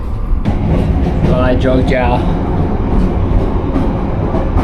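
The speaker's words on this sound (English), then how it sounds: "Train is moving." A premium economy class train pulling out from Yogyakarta toward Surabaya, with a loud, close rumble inside the carriage, a few clacks and a short squeal as it gets moving, while a voice speaks briefly over it.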